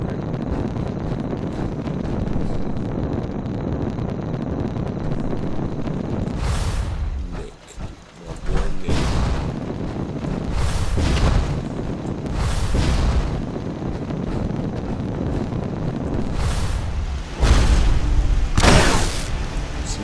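Explosion in the Fallout 4 video game, heard as several booming bursts with rumbling, noisy texture over a dense, continuous roar, one brief drop near the middle and a heavier blast toward the end.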